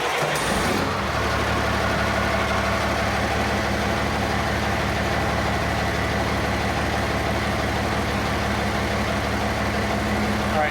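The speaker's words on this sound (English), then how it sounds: "you're gonna hear a lot of engine noise because diesels are loud." A Cummins diesel dump truck with a straight pipe exhaust idles loudly and steadily late at night, a constant low rumbling drone close by with a brief shuffle at the start.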